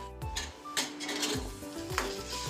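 Ginger garlic paste going into a pan of browning onions for a spicy chicken curry, with repeated spoon scrapes and clatters against the metal pan over a steady frying hiss, close and moderately loud.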